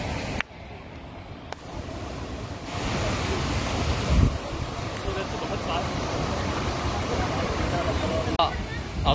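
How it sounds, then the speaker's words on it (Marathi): A waterfall roars steadily near Thoseghar, a broad continuous rush with wind buffeting the microphone and a crowd's faint voices mixed in. "अजून एक धबधबा."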